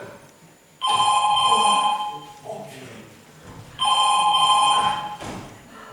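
A home telephone rings twice in a room before an answering machine takes the call. Each ring is a loud, bright electronic trill lasting a few seconds, heard close by with quiet background noise between the rings.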